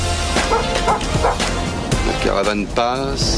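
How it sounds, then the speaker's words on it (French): A dog barks as a sound effect in a radio program, giving a few short yips and woofs mixed under lively talk. "Le chien aboie."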